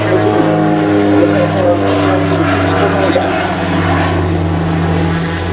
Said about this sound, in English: the Skyvan has dropped off its troops and there it goes back into the air again